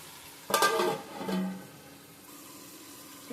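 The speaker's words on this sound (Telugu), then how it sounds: "టమాటా బాగా మగ్గేదాకా మూత పెడదాము." Tomatoes cook in a covered pan with a soft, steady sizzle, and a short rattling, stirring burst stands out near the start. No one speaks.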